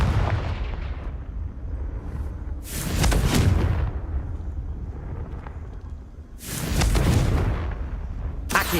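Confringo fire-spell explosions in the Hogwarts Legacy video game: two loud, broad booming blasts about four seconds apart, each roaring for roughly a second over a constant rumbling game background.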